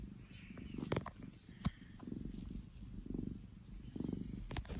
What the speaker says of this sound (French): Et en plus elle ronronne.